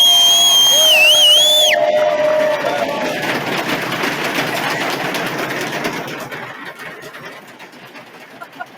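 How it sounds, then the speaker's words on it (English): An awards ceremony crowd at a knowledge festival breaks into clapping and cheers after a whistle-like tone, the applause strongest early then gradually fading toward near silence. "Clap now."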